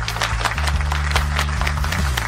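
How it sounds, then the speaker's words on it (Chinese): An audience applauds a nine-year-old girl hailed as a hero at a gathering of officials, guests and media after a near-crash flight, steady clapping running continuously beneath a low, sustained musical drone. "接下来，让我们把最热烈的掌声献给我们当之无愧的小英雄糯米"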